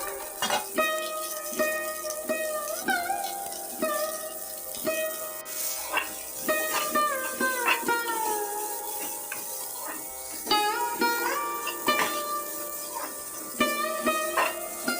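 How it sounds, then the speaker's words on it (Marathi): Onions fry in a little oil until brown, stirred with repeated scraping taps over a quiet sizzle, all under prominent melodic background music. "अशा प्रकारे भाजून घ्यायचा आहे कांदा कांदा ब्राऊन होईपर्यंत फ्राय करून घ्यायचा आहे"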